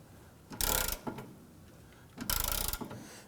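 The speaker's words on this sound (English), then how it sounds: "we're going to go ahead and use our 1/2" drive 15 with our ratchet to go ahead and loosen these" A 1/2-inch drive ratchet with a 15 mm socket loosens the rear lower forward control arm bolts on a 2008–2011 Ford Focus. Two short, fairly quiet bursts of ratcheting clicks come about a second and a half apart.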